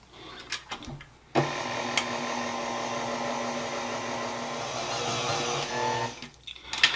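Electric hand mixer beating cookie dough for iced orange cookies, a steady high motor whir starting abruptly and running for several seconds before cutting off, with clicks and handling noises before and after.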